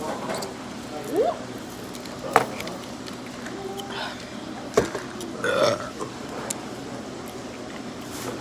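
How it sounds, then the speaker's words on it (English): At a seafood restaurant during a mukbang meal, a person lets out two distinct burps, the second longer and louder, over ongoing background chatter and table noise. "Why are you burping out of turn?"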